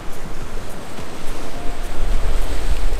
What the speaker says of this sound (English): Waves are so strong.